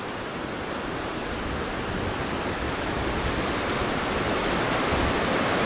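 Broad, steady rush of a river flowing all around, heard up close from the middle of the water near McCarthy, Alaska, a constant wash of noise that swells slightly louder toward the end.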